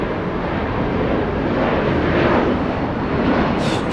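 An Air Tahiti Nui Boeing 787 Dreamliner taxiing at LAX, Los Angeles International Airport, gives a steady, loud, broadband jet-engine roar that holds evenly throughout with no voices.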